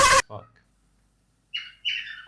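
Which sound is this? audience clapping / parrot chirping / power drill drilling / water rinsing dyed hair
parrot chirping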